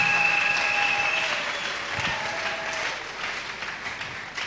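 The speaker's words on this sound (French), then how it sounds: "Nous acclamons très fort" A church congregation applauding loudly during a French-language sermon, a dense, steady wash of clapping that fills the whole stretch and fades slightly toward the end.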